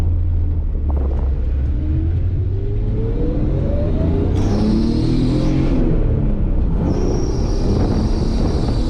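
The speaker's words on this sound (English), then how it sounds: "you should be able to hear that exhaust, and the supercharger line as well" A 1994 Jaguar XJS with a supercharged 4.0L straight six accelerates from inside the car, the exhaust droning and rising in pitch through the gears while a thin supercharger whine climbs on top.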